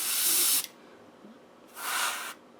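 An airbrush spraying thinned Vallejo paint gives two bursts of bright, airy hiss, each about half a second, separated by a quiet pause and heard close with no voices.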